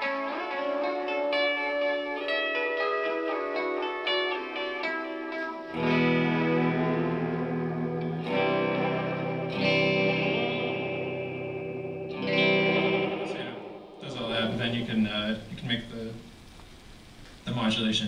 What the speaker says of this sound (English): This is a regular delay sound.